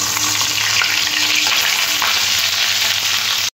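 Butter sizzles loudly in hot white oil in a kadai, a dense, steady frying hiss that runs unbroken to the end, with no voices.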